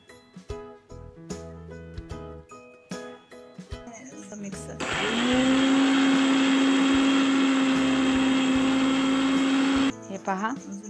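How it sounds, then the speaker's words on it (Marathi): Kitchen mixer grinder pulverising garlic and cumin into paste: a few clattering knocks and taps first, then a loud, steady high-pitched motor whir for about five seconds before it cuts off and spins down. "मिक्सरच्या भांड्यात आता लसूण आणि जिऱ्याची पेस्ट आपण"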